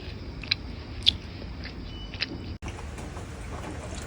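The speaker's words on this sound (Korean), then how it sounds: "어제 사놓은 홈런볼이 먹고 싶어서 먹고 있습니다" Someone eats Home Run Ball snack cookies with milk indoors: a few soft, close crunchy bites and mouth-chewing noises over a low steady background hum, with no talking.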